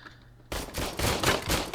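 In the video game RoboCop: Rogue City, after a half-second of quiet, a rapid burst of automatic gunfire rattles loudly and continuously until the end.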